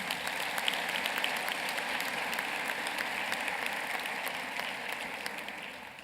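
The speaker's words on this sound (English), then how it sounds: "give yourself a round of applause for me" A graduating class and audience at a commencement ceremony give a sustained round of applause, an even wash of many hands clapping at moderate distance, fairly faint and steady, with no voices over it.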